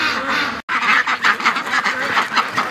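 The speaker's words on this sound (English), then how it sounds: "Okay, you got these ducks freaked out." Muscovy ducks in a pen quack in agitated, rapid bursts after being startled awake, a close, loud, continuous flurry of calls with one brief gap.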